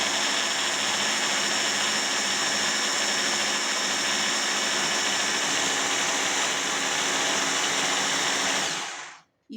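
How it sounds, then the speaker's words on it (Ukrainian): A food blender whirs loudly and steadily for several seconds, then abruptly cuts off. "Далі блендером збираємо"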